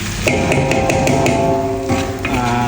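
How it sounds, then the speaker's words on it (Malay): Rapid metallic knocks on a wok ring out repeatedly over a steady sizzling of beef rendang, loud and close, with bright clangs spaced irregularly through the clip. "Kuali tu kena ketuk"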